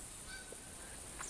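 Canada geese honk in the hunting video game TheHunter, a few faint, brief calls over a steady background hiss, sounding distant.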